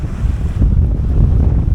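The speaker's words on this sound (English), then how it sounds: "The wind is still very, very brisk, and the gusts are still in the mid-20s." Strong gusty wind buffets the microphone in a heavy, low roar aboard a 21-foot sailboat off the Jersey coast, with rushing water and the churn of building seas.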